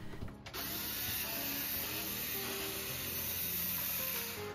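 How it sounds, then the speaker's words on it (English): A power screwdriver backs screws out of the retractable handlebar on a JBL PartyBox 310 speaker during a teardown, giving a steady mechanical whir and grind that runs continuously with no talking. "we will remove the retractable handlebar by removing 5 screws"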